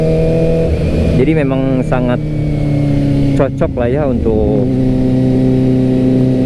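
A four-cylinder motorcycle engine hums steadily and loudly while someone talks over it.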